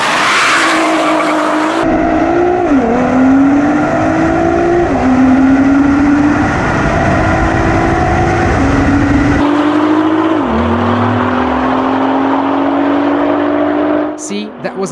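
A Nissan R35 GTR races on a track: a loud, close engine roar climbs in pitch through repeated gear shifts, and a second car's note sweeps past near the end.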